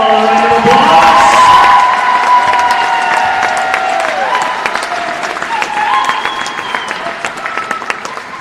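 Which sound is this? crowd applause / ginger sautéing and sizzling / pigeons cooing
crowd applause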